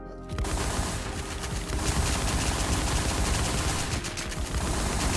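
Heavy gunfire in a video game bursts out after a brief quiet start, then continues as a dense, loud, near-continuous barrage of rapid shots and automatic fire.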